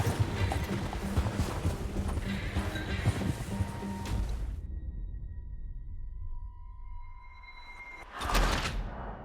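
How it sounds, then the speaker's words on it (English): Horse hooves clopping steadily in Red Dead Redemption 2 under a rumbling ambient bed, stopping abruptly and leaving a faint sustained tone before a short loud burst. "Hey, control that horse."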